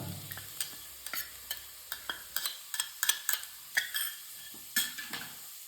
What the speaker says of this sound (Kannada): ಈಗ ಇದಕ್ಕೆ ನಾವು ಅರಿಶಿನ ಪುಡಿ ಮತ್ತು ಧನಿಯಾ ಪುಡಿ ಸೇರಿಸ್ಕೊಳ್ಳೋಣ.